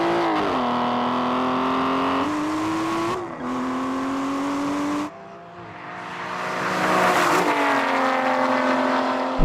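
Aston Martin cars accelerate hard in a drag race, engines roaring and climbing in pitch, then dipping briefly at each gear shift before pulling again. The sound is loud and close.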